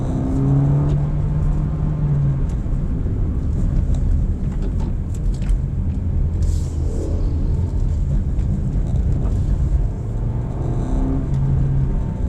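A 2023 Suzuki Dzire sedan engine revs and accelerates up close in manual mode, a steady loud rumble with rising tones, shifting gears around mid-way and climbing again near the end.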